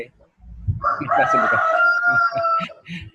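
Rooster crowing loudly and close through an open microphone during an online class, one long drawn-out crow with clucking at the end and a faint voice underneath.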